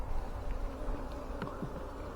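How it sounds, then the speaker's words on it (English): Honeybees hum in an opened hive brood box, a soft steady buzzing drone with a low rumbling undertone, fairly faint and without voices. "Bees seem relatively calm at the moment."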